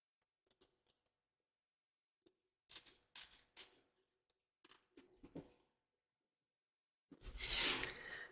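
Scissors snip paper for a handmade gift card holder in quiet, close, sparse cuts and small clusters of crisp snips, followed by a louder rustling burst of paper near the end.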